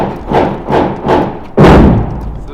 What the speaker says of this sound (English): So those bigger explosions, is that like a flashbang?